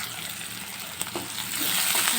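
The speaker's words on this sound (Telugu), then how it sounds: "ఫ్రై చేస్తాను" Frying in a pan for egg curry, a steady sizzle and hiss heard up close with a couple of faint clinks from utensils, the sizzle swelling louder near the end, with no speech.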